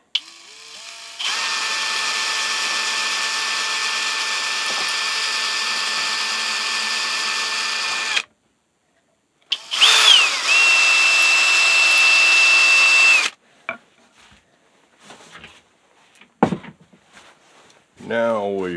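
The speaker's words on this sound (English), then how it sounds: "Turn it back to low speed for drilling." A power tool runs at a steady, fairly low hum for several seconds, stops, then runs again briefly, followed by scattered clatter and handling sounds.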